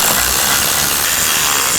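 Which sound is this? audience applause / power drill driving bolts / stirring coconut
power drill driving bolts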